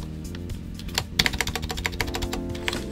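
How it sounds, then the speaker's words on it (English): Keys clatter on a Cooler Master CK721 65% wireless mechanical keyboard with lubed stabilizers, a quick burst of close, crisp typing with rattly ticks, sparse at first and then rapid and uneven. "stabs are lubricated, but there's still a lot of rattle and tick."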